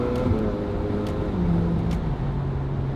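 A Ferrari 458 with a titanium exhaust, valves closed, idles and cruises with a low, steady, subdued exhaust drone, its pitch dropping slightly; no talking.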